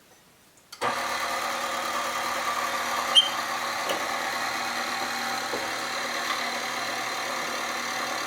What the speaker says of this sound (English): And let it mix for a minute to get the ingredients all mixed up.